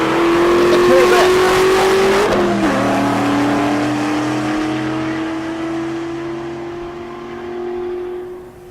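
Drag race cars, a Nova and a Corvette, at a raceway during a racing week, roaring loudly as engine pitch climbs, shifts sharply, then holds a long fading drone, with an announcer's voice over it.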